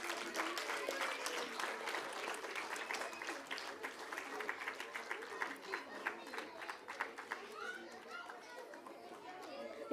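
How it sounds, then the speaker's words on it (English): Scattered clapping from parents at a preschool annual day, moderately faint and fading gradually, with background chatter and children's voices underneath. "A big round of applause"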